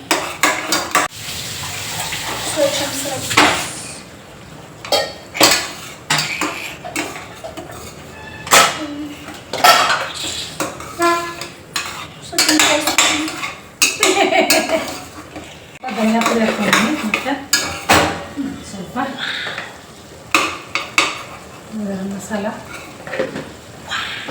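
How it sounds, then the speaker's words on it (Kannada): A spoon clatters and scrapes against a metal cooking pot while ground onion-tomato masala with ginger and garlic is mixed, making loud, irregular knocks and scrapes up close. "ಚೆಂದಾಗಿ ಮಿಕ್ಸ್ ಮಾಡ್ಕೊತೀನಿ ಈಗ"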